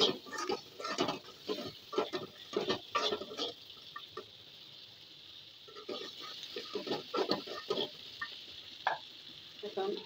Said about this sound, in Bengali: এখন চিংড়ি মাছগুলো দিয়ে দিচ্ছি। একটু নেড়ে চেড়ে ভেজে নেব।